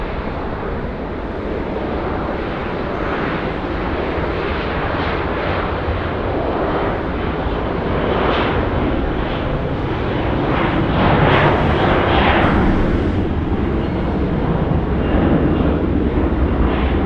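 An airliner, likely an A330-300, roars on takeoff at Sydney Airport at night, a loud sustained engine rumble with broadband jet noise that builds slightly toward the end; no speech is heard.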